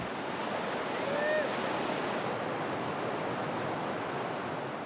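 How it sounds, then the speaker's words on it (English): The swollen Rio Grande rushes through New Mexico like a mountain torrent after heavy rains, a steady, dense roar of flowing water heard close and unbroken, with a faint brief whistle-like tone early on. "Today, the river has the fury of a mountain torrent."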